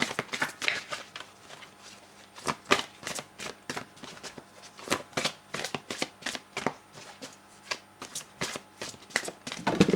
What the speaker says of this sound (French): je vais prendre une carte avec l'oracle des rebelles sacrés